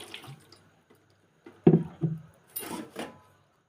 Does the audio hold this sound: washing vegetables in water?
yes